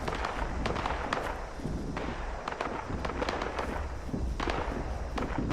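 Sustained crackling gunfire in Fallout 76, irregular sharp pops firing in clusters, loud and continuous across the whole stretch with no talking.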